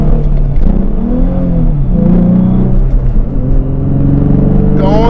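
A Ford Mustang on a drag strip pass accelerates hard through its gears, the loud engine note rising and dropping across several shifts, with a deep rumble throughout and a fresh rising rev near the end.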